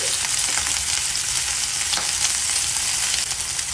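Ginger, garlic and green chili fry in hot oil for pepper prawns, a loud, steady close sizzle with occasional stirring scrapes and no talking.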